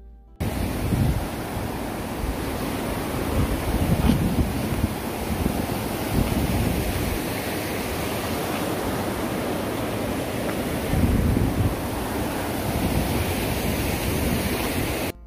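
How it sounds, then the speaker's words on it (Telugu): Water rushes continuously from an unseen waterfall, a broad, steady roar with gusts of wind noise swelling and fading over the constant wash. "వాటర్ సౌండ్ అయితే గట్టిగానే వినిపిస్తుంది కానీ ఆ వాటర్ ఫాల్ మాత్రం కనపడట్లేదు"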